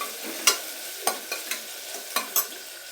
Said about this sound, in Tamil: வெங்காயத்தை நல்லா ஒரு கோல்டன் கலர்னு சொல்லுவாங்கள்ல ஃப்ரெண்ட்ஸ், அந்த அளவுக்கு நம்ம நல்லா வதக்கி எடுத்துக்கலாம்.